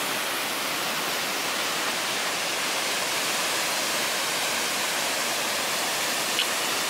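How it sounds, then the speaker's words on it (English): Iron Creek Falls pours down a tilted rock cliff into a mossy creek, making a loud, steady, broadband rush of falling water that stays constant throughout with no voices. "there is a beautiful waterfall"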